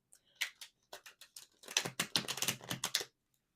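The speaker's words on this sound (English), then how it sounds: "As I'm shuffling the tarot" Tarot cards being shuffled make quick, crisp riffling bursts in irregular clusters, close and fairly quiet, with no voice.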